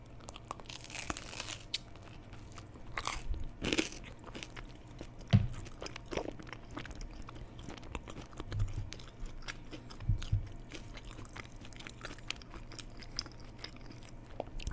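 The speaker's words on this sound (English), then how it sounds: "Really good crunch on the crust." Someone bites and chews crunchy pepperoni pizza crust close to the mic, making soft, irregular crunches and crackles over about fifteen seconds, with occasional sharper snaps and no talking.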